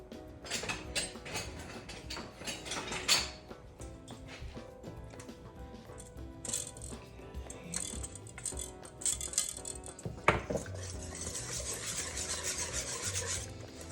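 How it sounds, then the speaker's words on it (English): Whisk scraping and rasping through sugar-free black bean brownie batter in a bowl, a steady close scratchy churning with uneven strokes and a few louder clinks against the bowl. "now we're gonna mix this up. I'm gonna switch this out for a whisk"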